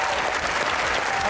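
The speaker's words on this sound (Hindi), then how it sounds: "आपकी भरपूर तालियों में सबसे पहले बुलाने जा रहा हूं the producer of this play Sumaiya" Audience applause at a theatre talk show welcoming the producer and cast of an Aladdin stage play, a short dense burst of clapping from a crowd.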